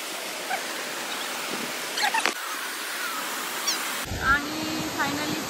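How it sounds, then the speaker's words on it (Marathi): Steady broadband rush of flowing water near a waterfall in hilly mountain country, constant and fairly faint, with a few brief knocks and chirps on top and a change in tone near the end. "खूप छान असा आवाज येतोय पाण्याचा"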